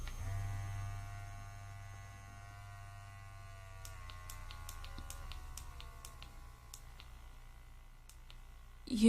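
Electric facial cleansing brush running at reduced speed, a steady low motor hum with faint whine tones that shift slightly partway, accompanied by light button clicks near the end.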